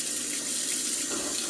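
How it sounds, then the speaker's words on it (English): A tap runs steadily into a sink while Air Jordan 1 sneakers are being cleaned, a continuous close hiss of flowing water with no talking. "You're going to just turn the water on."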